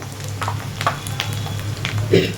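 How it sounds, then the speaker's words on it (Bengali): Ground coriander and cumin spice powder frying in a pan, a soft steady sizzle with light scraping and stirring, fairly quiet and close throughout. "এখানে ধনে জিরে গুঁড়ো মশলাটা ভেজে নিচ্ছে"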